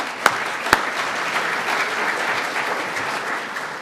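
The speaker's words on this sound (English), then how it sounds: "Let's give them all a round of applause" A room full of people at a Rotary club meeting applauds in a steady wash of clapping, with two sharp claps standing out at the start.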